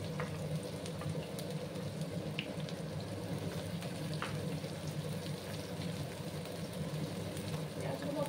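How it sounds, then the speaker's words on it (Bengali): Onions fry in hot oil with a constant, moderately loud sizzle and hiss, close by and steady throughout with small crackles, for a bean bharta dish. "তেলটা গরম হয়ে গেছে, এবার আমি পেঁয়াজগুলো দিয়ে দেব।"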